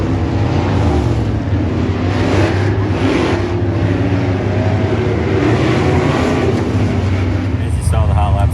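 Race cars run hot laps on a race track, producing a loud, continuous engine roar that swells and fades slightly as they circulate, with no clear gaps throughout.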